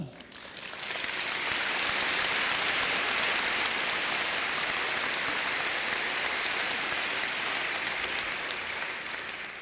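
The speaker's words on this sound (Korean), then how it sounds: "이제 우리 김 선교사님 나오실 때 여러분 격려의 치하에 뜨거운 박수를 부탁드립니다." Sustained applause from a large mission-conference audience welcoming a missionary serving in Swaziland to the stage, a dense wash of clapping that swells in within the first second and holds steady and loud throughout.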